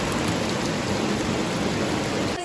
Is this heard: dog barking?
no